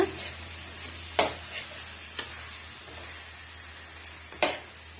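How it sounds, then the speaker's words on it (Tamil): Masala and drumsticks in a pan are stirred lightly for a spicy drumstick curry, a few scattered scraping strokes over a soft sizzling hiss, close and fairly quiet, with no talking. "இப்போ லைட்டாக வந்து கிண்டி கொடுத்துக்கோங்க"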